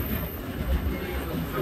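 A mountain train runs through a valley in Gangwon-do with a continuous low rumble and rolling noise, steady and moderately loud from on board.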